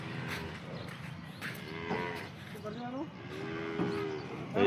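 Cows being unloaded moo several times in drawn-out, wavering calls close by, with a person talking and soft shuffling noises around them.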